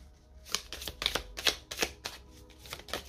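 Oracle cards being shuffled by hand in a quiet room, a quick run of about eight crisp papery riffles and slaps spaced unevenly over a few seconds, close and moderately soft, with no talking.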